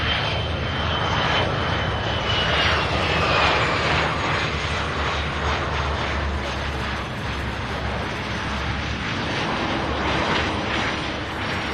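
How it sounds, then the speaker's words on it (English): A 20-year-old United Airlines CRJ 200 regional jet arriving at Louisville airport, its engines roaring loud and steady the whole time, broadband jet noise with a faint high whine, no talk. "This one here, United Airlines, flight 5337, arriving from Chicago in a 20-year-old CRJ 200."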